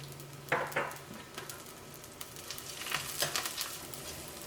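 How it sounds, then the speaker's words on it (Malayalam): Shallots, ginger and green chilli sauté in coconut oil in a clay pot, giving a quiet, steady sizzle broken by a few scraping stirs, close by and fairly soft. "ഈ ചുവന്നുള്ളിക്ക് ഒന്ന് വഴറ്റിയെടുക്കുക."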